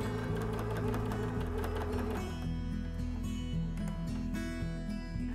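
A sewing machine runs steadily while topstitching along a seam with an edge stitch foot, its fast mechanical needle chatter continuous and close throughout, with brief changes in pace and no talking.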